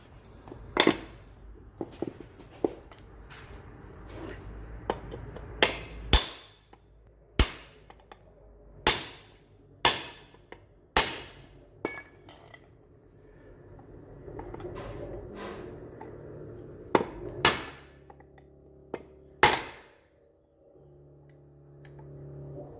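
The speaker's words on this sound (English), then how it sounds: "proceed to beat the bush out, which, because it's knackered, doesn't actually take much" A hammer strikes sharply again and again, in uneven bursts and pauses, driving a worn lower arm suspension bush out of an MG3. The loud metallic blows come close and clear, with no talking over them.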